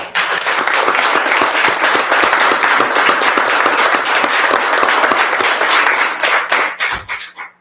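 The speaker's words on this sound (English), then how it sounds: "Could I please get a round of applause?" Steady, dense applause fills a school board of education meeting in Effingham Unit #40, many hands clapping loudly and evenly for about six seconds before tapering off into a few scattered claps.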